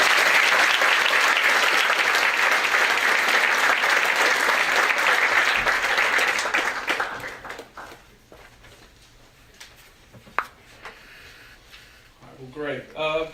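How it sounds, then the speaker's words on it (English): A round of applause for Dr. Williams at a university early arrival program's opening session, loud and dense for about seven seconds, then fading to a few scattered claps and faint murmuring. "please give Dr. Williams another round of applause"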